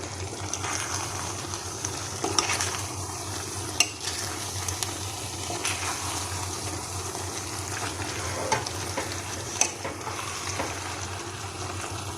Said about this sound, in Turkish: Şimdi karıştırıyorum.